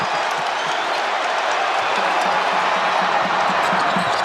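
Basketball arena crowd at a Marquette Golden Eagles versus St. John's Red Storm overtime game, roaring after a banked three-pointer, a loud, steady wash of cheering with sneaker squeaks and thuds faintly beneath.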